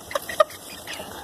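Olandsk Dwarf chickens give a few soft, brief clucks close by, with quiet pauses between them.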